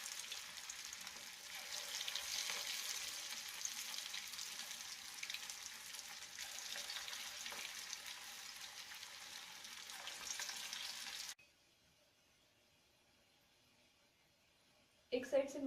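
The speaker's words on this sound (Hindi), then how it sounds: "मंगोड़ों को हमें फुल आंच पर फ्राई करना है, फ्लेम कम नहीं करना है।" Moong dal mangode deep-frying in oil over full flame give a steady, hissing sizzle, a soft continuous crackle for about eleven seconds before the sound drops away to near silence, with a brief noise at the very end.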